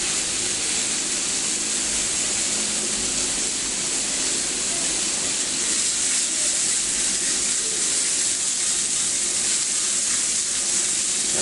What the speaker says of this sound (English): When you sear it and flip it right over again, you don't give it time for a caramelization of the protein and fat to occur.